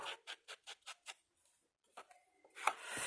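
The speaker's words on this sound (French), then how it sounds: "Oh là, faut que je change la lame du massicot là" A paper trimmer (massicot) with a worn blade cuts paper in a quick series of about six evenly spaced rasping strokes. After a short pause come a few softer scrapes and a final clack, all faint and close.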